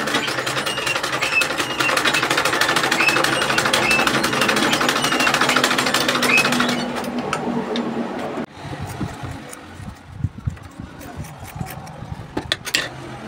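A sewing machine stitches fabric for a damask turban in a steady, busy whir with fast rapid ticking for about seven seconds, then stops and is followed by quieter handling noises and soft clicks.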